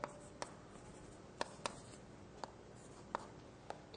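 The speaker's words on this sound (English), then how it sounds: "So let me write this" Chalk or marker writing on a board during a mathematics lecture, heard as faint scratching with sharp taps at irregular intervals, alone without speech.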